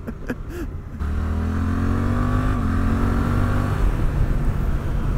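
A Suzuki GSX-8S motorcycle engine runs steadily while riding, a loud, close hum with heavy wind rush and a slight dip in pitch partway through.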